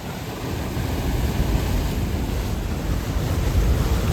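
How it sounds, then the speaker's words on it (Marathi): Dense, roaring wash of rough sea waves on the Konkan coast with heavy wind buffeting the microphone, loud and unbroken, no voices. "बघा खवळला समुद्र एकदम जबरदस्त"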